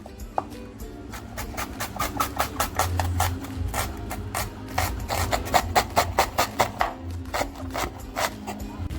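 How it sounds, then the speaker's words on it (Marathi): A knife finely chopping onion on a board, with rapid, even chopping taps, close and steady over a continuous background. "अगोदर आपण आहे ना बारीक कांदा कापून घेऊया"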